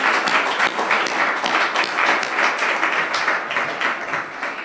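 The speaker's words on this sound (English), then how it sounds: "we need to give her a round of applause for her dedication and commitment" A loud round of applause from an audience at a high school STEM program event honoring a longtime educator, many hands clapping in a steady, dense patter throughout with no speech.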